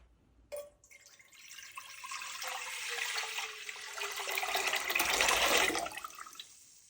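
Water runs into a cooking pot in a steady splashing stream that begins suddenly and grows louder as the pot fills, then cuts off near the end.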